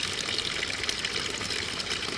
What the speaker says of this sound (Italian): sempre il suono dell'acqua che è magnifico